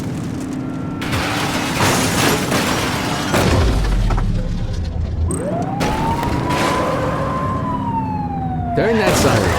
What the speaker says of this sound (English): Turn that siren.